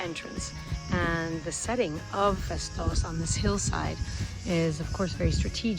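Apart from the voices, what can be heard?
None of the usual background noises is heard.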